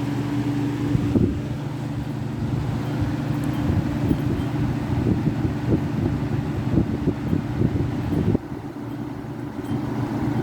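Lasko and Holmes box fans from the 90s run side by side on medium, giving a steady whooshing airflow with a low motor hum and light rattling ticks, close and continuous.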